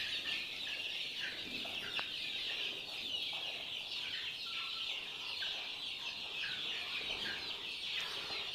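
Three-month-old domestic chickens, including hybrid Lohmann Brown hens, cluck steadily in a busy flock, with soft repeated calls overlapping against a constant background hiss.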